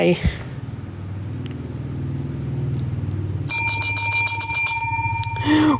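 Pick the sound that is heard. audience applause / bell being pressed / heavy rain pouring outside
bell being pressed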